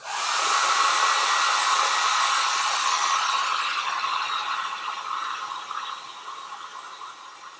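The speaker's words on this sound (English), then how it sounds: "Apologize for the hairdryer noise." A hair dryer blows steadily and loudly up close, a broad whooshing hiss with a faint rattle, gradually easing slightly in volume over several seconds.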